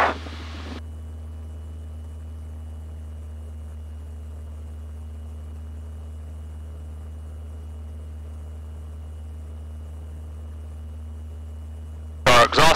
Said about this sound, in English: I'm going to start a power reduction and we'll lean the engine out as well.